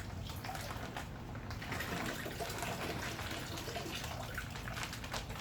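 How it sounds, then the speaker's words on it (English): Wine mixture poured from a container into a jug, a steady close gushing of liquid that runs without a break for several seconds. "we're going to go ahead and pour that out into the jug"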